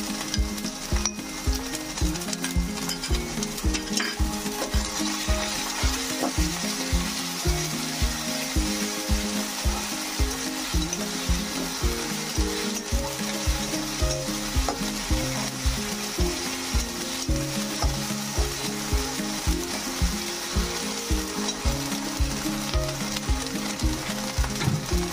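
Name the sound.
frying ginger garlic paste for banana blossom chop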